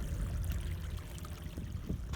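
Spring water running along the Loowit Trail on Mount Saint Helens, a steady close gurgling flow that keeps going without a break.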